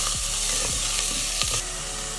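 Onion sizzles in hot oil with cumin and curry leaves for khichdi, a steady close frying hiss broken by a few soft stirring scrapes.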